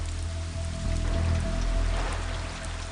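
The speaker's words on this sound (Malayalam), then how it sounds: "നല്ല മഴയല്ലേ, പിന്നെ ചെറിയൊരു പണിയുണ്ട്." Heavy rain sound effect during a Malayalam stage skit, a steady broadband hiss of falling rain with low hum underneath, continuous and fairly loud throughout.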